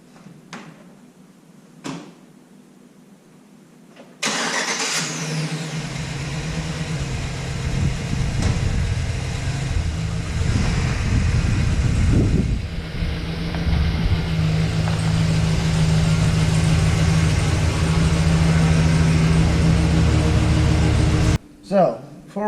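A 2007–2013 Chevrolet Silverado pickup with a screeching window starts after a quiet few seconds, and its engine then runs close by in a steady, loud, low rumble until it cuts off near the end, with a voice heard at times.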